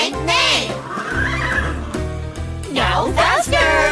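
Children's voices imitate a horse neighing, singing the call repeatedly and loudly in rhythm during a school assembly action song, with music playing underneath.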